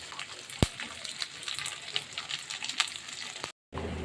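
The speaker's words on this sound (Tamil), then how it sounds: "இஞ்சி பூண்டு பேஸ்ட்டும் நல்லா வதங்கிடுச்சு." Ginger garlic paste sautéing in a pan for a Tamil-style sankara fish curry, giving a steady close sizzle with faint stirring clicks and one sharp utensil knock, briefly cut off near the end.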